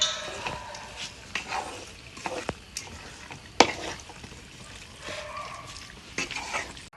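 Chicken kapiri being stirred in a pan with curry leaves and coriander, with a quiet sizzle beneath intermittent scraping of the spoon and occasional sharp knocks against the pan.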